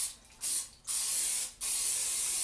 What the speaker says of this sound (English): I take olive oil spray. And I'll spray some in this pan